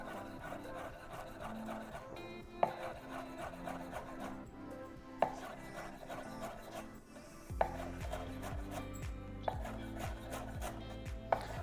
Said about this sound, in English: So with this, we want a nice fine chop.